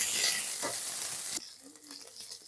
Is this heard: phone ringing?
no